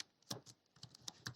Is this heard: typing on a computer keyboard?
yes